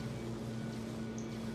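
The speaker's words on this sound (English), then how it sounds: "Yes, yes, the dishwasher is loud." A loud dishwasher runs in The Sims 3, giving a steady low mechanical hum with an even washing whir, constant and unbroken with no talking.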